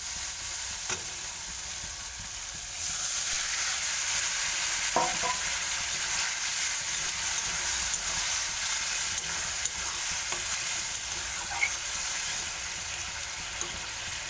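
Vegetables tipped into hot oil with cooked-down spices in a home kitchen pan, a steady broad sizzle that swells as they hit the oil, with scraping stirs and light utensil clinks throughout, close and continuous.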